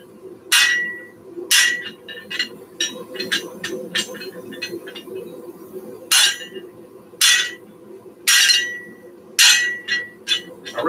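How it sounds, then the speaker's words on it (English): Hot steel is hammered at a forge while a fireplace tool rack is shaped: loud, ringing metallic blows land in quick clusters with short pauses, with quieter taps in between, and nobody talks. "I'm hammering right now"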